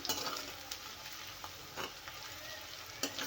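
Crushed garlic paste sizzling steadily in a hot pan, with occasional soft scrapes and stirs of a utensil over the quiet, continuous frying hiss.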